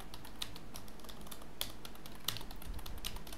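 Python code being typed on a computer keyboard: a steady run of soft, quick keystrokes with a few louder clicks, close by, with no speech over it.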